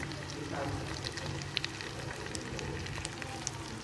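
Potatoes and spinach fry in a pan for aloo palak, giving a steady, soft sizzle and crackle with scattered small pops, low and continuous throughout.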